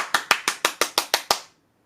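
Bare hands clap about eight times in a quick, even rhythm, each clap sharp and close, then silence.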